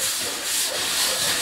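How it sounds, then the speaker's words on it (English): A sanding block rubs lightly over the edges of a drywall patch, giving a soft, continuous airy scratching hiss, close and steady for a moment with no talking. "just take a sanding block"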